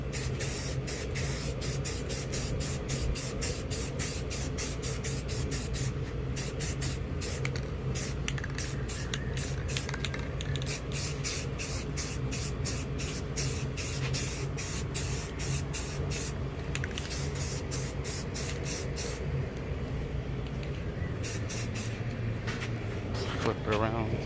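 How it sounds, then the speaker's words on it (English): A steady aerosol spray hisses almost continuously for over twenty seconds, with short rapid pulses and brief breaks in the stream, spraying down a bored-out Honda K20 intake manifold. "we're going to go ahead and spray it down one last time"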